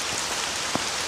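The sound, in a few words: rain falling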